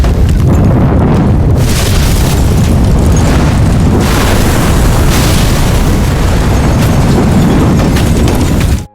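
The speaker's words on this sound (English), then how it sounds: "A second later, the bomb exploded violently." A bomb explodes in a very loud, deep boom that rumbles on without a break before cutting off abruptly at the end.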